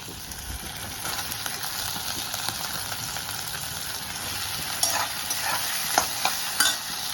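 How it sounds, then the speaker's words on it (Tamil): Eggplant and tomatoes sautéing in a pan, a continuous close sizzle with scraping stirs and a few louder clinks of the utensil against the pan toward the end. "தக்காளியும் போட்டு வதக்கிட்டு இருக்கேன்"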